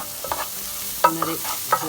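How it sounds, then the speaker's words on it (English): Mushrooms being stirred in a pot for mushroom soup, a short burst of close scraping and knocking from the spoon, three distinct clatters over a low background hum. "And the mushrooms. Mix"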